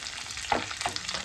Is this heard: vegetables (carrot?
yes